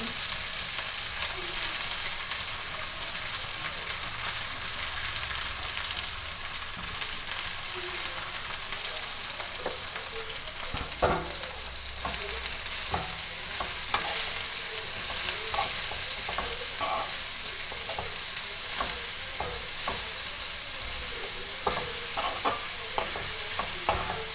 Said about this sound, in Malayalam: നമ്മൾ അഗസ്തിപ്പൂ ഇട്ട് കൊടുക്കണം.